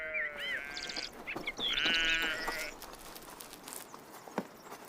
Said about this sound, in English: The greenlands between the oaks are grazing grounds for the sheep.